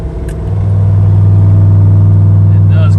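A turbocharged LS-swapped Ford Crown Victoria idles with its exhaust cutout open, a loud, deep, lumpy rumble that swells over the first half-second and then holds steady and close.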